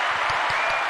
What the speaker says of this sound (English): am I actually getting a round of applause?